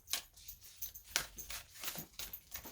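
Faint, irregular metallic jingling in the background, like tags on a collar clinking as a dog moves and plays.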